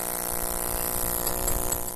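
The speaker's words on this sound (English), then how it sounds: "The pneumatic tool is doing the same thing the mallet does." A pneumatic air hammer, a type invented in 1880, drives a chisel into stone in a continuous, loud, buzzing rattle of rapid blows, close up and unbroken, with no voices.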